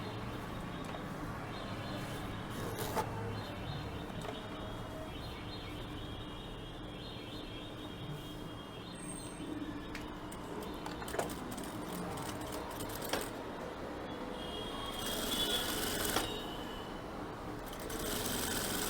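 A sewing machine runs steadily while stitching a V-shaped waistcoat, a faint continuous mechanical hum with occasional small clicks and a few distant bird chirps, no speech.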